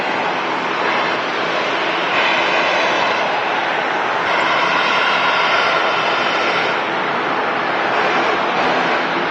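An easyJet Airbus A320neo landing at Manchester Airport, its loud close jet roar sustained and rushing, swelling in waves across the whole stretch with no voices.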